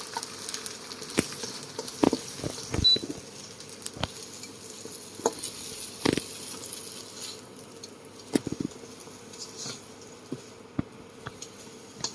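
An egg frying in a little oil while cooking pad see ew; a quiet, steady sizzle runs throughout, broken by scattered sharp clicks and taps of utensils against the pan, with no voices.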